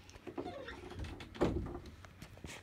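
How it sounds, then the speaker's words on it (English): An old basement door squeaks as it swings open or shut, a creaking mid-clip swell standing out against low household rumble. "The door's squeaky."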